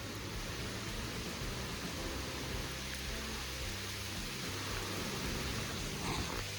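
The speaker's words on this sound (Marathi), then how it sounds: "पावसाने सुरुवात केली परत आणि आता तर चांगलाच जोरात आलाय" A heavy downpour beats down at a farmhouse under trees, a constant broadband wash of rain with no speech.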